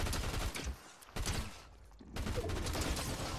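Rapid bursts of gunfire in a Fortnite match, loud and dense, dropping briefly before another volley resumes near the end, with no talk over it.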